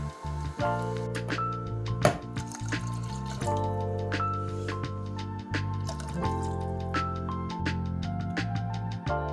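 Water pours and drips into a cooking pot for dirty rice, a run of small splashes and trickles over a low musical background.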